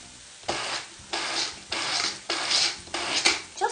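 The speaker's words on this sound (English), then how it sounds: "I'm going to buzz it up just a little bit in my personal blender, just like that." A personal blender pulses Mexican stewed tomatoes in about six short, rhythmic bursts, each whirring grind separated by brief pauses, fairly close and with no talking.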